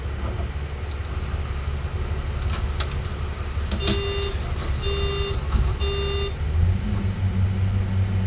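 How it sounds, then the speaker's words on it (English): Warning buzzer on a bus in the OMSI 2 driving game, sounding because the doors are still slightly open: three short, even tonal beeps in a row over a steady idling engine rumble. "That's just a warning buzzer to tell me that the doors are still slightly open"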